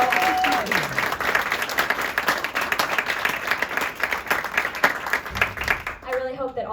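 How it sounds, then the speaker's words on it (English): Loud, sustained applause from an audience at a speaking event, dense clapping filling the clip with some crowd noise, fading out at the very end. "Can we get another round of applause for our brave girl?"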